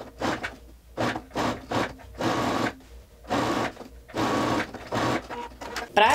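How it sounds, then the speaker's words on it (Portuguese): A sewing machine runs a straight seam along the back of a lab coat in short, repeated bursts of fast whirring stitching separated by brief pauses, close and clear. "vou passar uma costura reta só no revel das costas"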